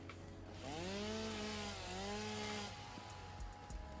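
A chainsaw in the factory-building game Satisfactory revs up and winds down twice in smooth rising and falling whines, fairly quiet and with no talk.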